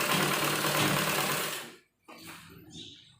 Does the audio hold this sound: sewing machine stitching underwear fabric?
yes